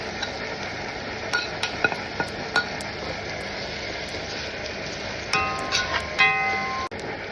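Plenty of garlic, then onion, frying in oil in a pan, a faint steady sizzle broken by scattered clinks and scrapes of a utensil stirring against cookware.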